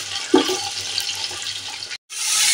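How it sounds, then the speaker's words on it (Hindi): Chicken pieces sizzle and hiss in hot oil in a cooking pot, a steady close frying noise with a brief drop to silence near the end. "अब मैं चिकन शामिल करूंगी और चिकन को फ्राई करूंगी।"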